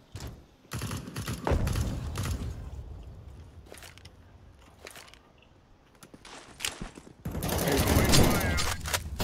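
Rapid gunfire from Counter-Strike: Global Offensive comes in loud bursts and single shots over busy game noise, with players talking throughout.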